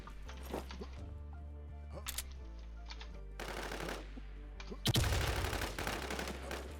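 Bursts of automatic gunfire in the H1Z1 video game, rapid volleys coming in uneven clusters, the last one loud and close, over a steady low background drone.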